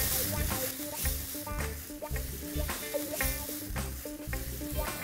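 Brioche torrija sizzling in butter on a hot griddle, a steady crackling fry throughout with faint background clatter.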